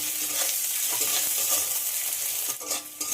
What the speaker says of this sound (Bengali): লবণটা দিয়ে পেঁয়াজটা আবারও ভেজে নিতে হবে।